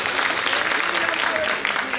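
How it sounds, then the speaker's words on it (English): Dense applause from a crowd at a golden jubilee celebration of a Kerala community association in New York, steady and continuous, with some voices mixed in. "Please give him a round of applause"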